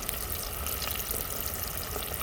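Chicken fries in hot oil, giving a quiet, steady sizzling hiss that continues without break and with no talking.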